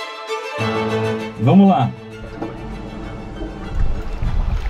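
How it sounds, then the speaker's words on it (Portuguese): A homemade submarine's motor is test-run beneath a catamaran with the hatch still open, a sudden low whirring hum that rises and surges briefly against water sloshing, with someone speaking at the start. "Vamos fazer o teste de motor agora, ainda com a escotilha aberta em cima."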